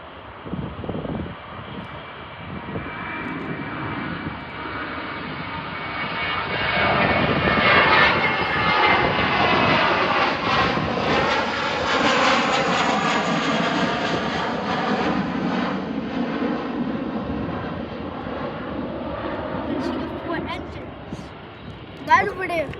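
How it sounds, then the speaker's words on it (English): A Boeing 747 jet airliner passes overhead, its engine roar swelling from a distant rumble to a loud sustained drone that slowly fades, with excited talking over it. "I can literally hear the Boeing 747"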